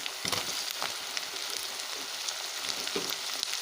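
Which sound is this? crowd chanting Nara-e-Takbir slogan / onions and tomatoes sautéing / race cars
onions and tomatoes sautéing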